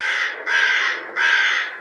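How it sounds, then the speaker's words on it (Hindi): A crow caws loudly and close by, two long harsh calls in a row separated by a short gap, alone with no other sound. "कौवा। क्रो।"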